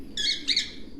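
Two short, bright chirping calls come close together from birds in a racing pigeon loft in Quetta, over a low background hum.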